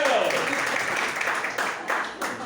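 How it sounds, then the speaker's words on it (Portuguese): Congregation clapping in a church service, a brief burst of dense applause that dips and swells, with a voice blended in. "Vamos aplaudir a vida do Cristiano aí, querido?"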